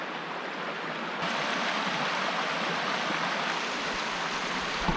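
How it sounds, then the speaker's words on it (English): A river rushes steadily along a forest trail in Olympic National Park, a dense, constant broadband roar of flowing water that swells slightly louder after the first second, with no voices. "It's the river."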